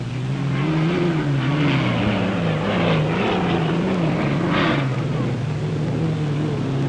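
Hydroplane racing boats roar around a turn at the 1963 Gold Cup in Detroit, a loud, steady engine drone with wavering pitch as several boats pass together, with crowd or announcer voices faintly mixed in.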